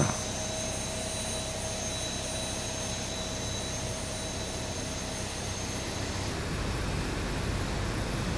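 Steady, loud roar of a Boeing 737-800 jet engine spooling up during start in the X-Plane 11 flight simulator, a continuous broadband whine with a faint high tone, no voices.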